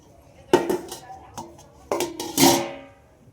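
Metal clatter and clinks as a lid is set onto a cooking pot holding a stand in water with cake batter for an Oreo cookie cake, several bright knocks in quick succession ending in a ringing rattle.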